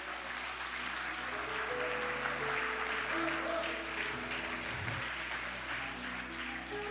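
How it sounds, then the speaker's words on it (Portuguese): Worshippers at a church service applauding the Lord, a continuous wash of clapping heard at moderate distance under sustained music tones. "Vamos aplaudir ao Senhor"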